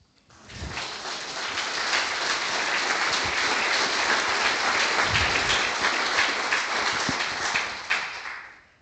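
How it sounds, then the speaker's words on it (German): At a convention opening, an audience claps for a poem written by AI, with applause swelling quickly, holding as a loud, dense roar of many hands, then tapering off. "Gebt Applaus der KI, wenn's euch anspricht."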